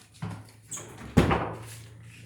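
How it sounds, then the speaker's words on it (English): An indoor door creaks and clicks open, a soft squeak followed by a louder latch clunk and a brief rush of air, close and quiet with no talk. "you can open the door if you want."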